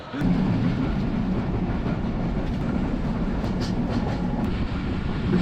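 A train rumbles loudly and continuously at Rajshahi railway station, a dense low roar with faint rhythmic rattling of wagons and occasional high squeaks over the steady din.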